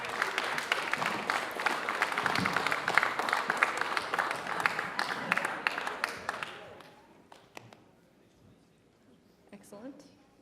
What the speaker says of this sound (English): Let's give them a nice round of applause as they make their way on up.